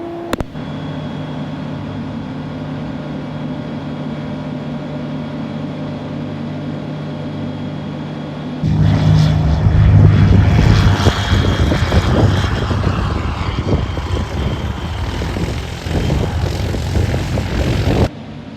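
A light propeller airplane sits at a steady engine hum while lined up on runway 24, then the engine swells to full power for the takeoff roll and climb, loud and close from inside the cabin.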